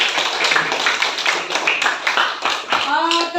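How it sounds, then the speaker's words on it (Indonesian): A burst of clapping from several hands fills a classroom during a lesson, mixed with a voice speaking over it toward the end. "Oke, beri tepuk tangan."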